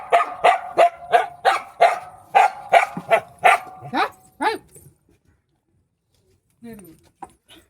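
A dog barks about ten times in a quick, loud, close run, then falls quiet, followed by brief faint sounds near the end.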